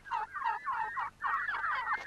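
Turkeys grazing on hillsides around a rural home gobble in quick, bubbling bursts, several overlapping calls in a short burst, fairly close and clear with no talk.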